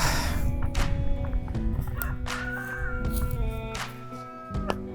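A busy flock of fowl clucks and squawks close by, with overlapping calls and some honk-like cries throughout, fairly loud and continuous.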